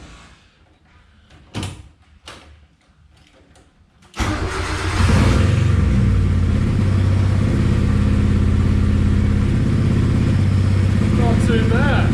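A car engine cranks and fires up, then idles and revs steadily with a rough, raspy exhaust note, loud and close; a few clicks and knocks come before it starts.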